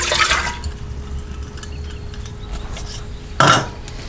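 Warm water from a kitchen tap for bread dough: a brief splashing gush at the start, a quiet stretch with faint drips and a low hum, then a second short burst of running water near the end.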